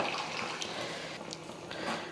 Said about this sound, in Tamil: புளி தண்ணி சேர்த்துக்கிறேன்